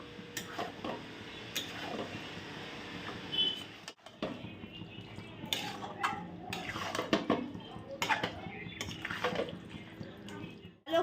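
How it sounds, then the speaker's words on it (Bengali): Chicken pieces and masala being stirred in a pot for Bengali chicken kosha, with intermittent scraping, clinks of the spoon against the metal, and wet sizzling, close up and fairly quiet. "এবার এটাকে ভালো করে কষিয়ে নেবে।"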